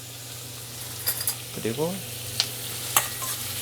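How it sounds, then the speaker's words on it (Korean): Onions stir-frying in a pan on an SK Magic induction range, a soft continuous sizzle with occasional stirring scrapes, faint, while a person speaks briefly over it. "양파 색깔이 약간 노릇노릇해질 때까지 제가 볶아주겠습니다"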